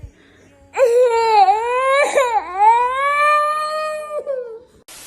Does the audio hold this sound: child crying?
yes